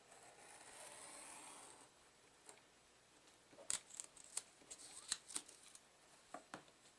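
Scissors cutting paper strips for making paper beads, a series of faint crisp snips arriving in quick irregular bursts after a soft rustle, close and quiet.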